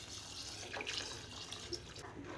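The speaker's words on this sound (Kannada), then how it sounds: "1 ಲೋಟ ಅಕ್ಕಿಗೆ 2 ಲೋಟ ನೀರು ಹಾಕ್ತಾ" Water poured from a cup into a pressure cooker holding Sona Masuri rice for prawn biryani, a steady close splashing stream with small gurgles that lasts throughout, with no talk.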